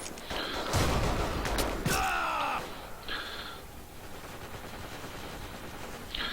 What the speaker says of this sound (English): let's Tommy gun a bit